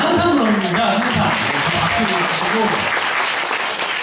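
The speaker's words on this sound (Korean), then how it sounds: "박수 주시고" Audience applause at a Korean-language school event about unification, a steady wash of clapping under a voice talking over it throughout.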